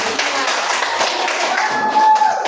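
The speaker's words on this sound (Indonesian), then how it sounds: "tepuk tangan dulu temannya" Children in a classroom clap together for a classmate, a brisk, close burst of many hands that continues steadily and fades at the end.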